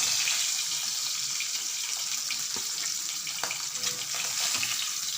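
Hilsa fish frying in a pan, a steady bright hiss of sizzling oil with small crackles and pops, continuous and close.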